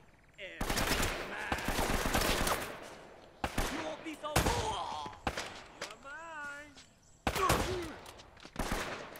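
Bursts of rapid gunfire in the video game Uncharted: Drake's Fortune, loud and close, in several volleys with pauses between, with someone talking in Russian over parts of it.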